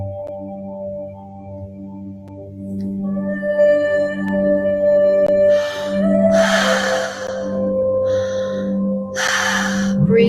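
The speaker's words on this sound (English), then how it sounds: "Breathing in and breathing out." Slow breaths drawn in and let out during a spiritual guided meditation, with soft breathy rushes rising over a steady, sustained musical drone and tones.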